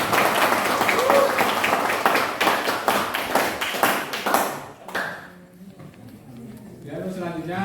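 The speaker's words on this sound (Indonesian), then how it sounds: "Tepuk tangan untuk buat kalian." Students in a classroom clap together for about five seconds, a lively, close burst of applause that drops off abruptly, followed by a teacher's voice speaking.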